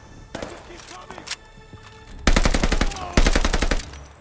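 Rapid automatic gunfire from the Call of Duty Vanguard video game, two loud sustained bursts of closely spaced shots following quieter scattered sounds, with a voice talking earlier.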